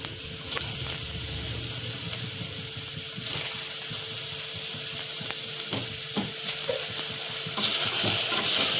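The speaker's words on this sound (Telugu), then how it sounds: "ఒక 5 minutes బాగా ఫ్రై కావాలి" Curry leaves and tomato frying for chicken pulao: a steady close sizzle with occasional spoon scrapes and stirring knocks, growing a bit louder and hissier near the end.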